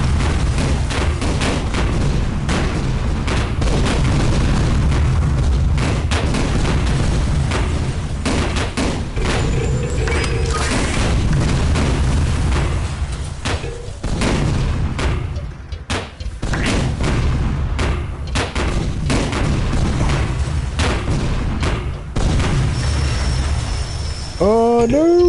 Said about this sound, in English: God, giant cannon, giant bullet bills.